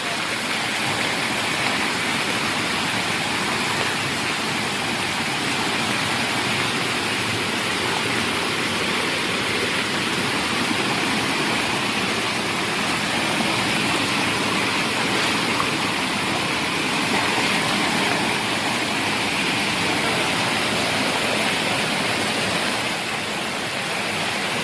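Loud, steady roar of rushing water from a large waterfall or stream with deep water, a dense continuous wash that stays constant throughout with no voices.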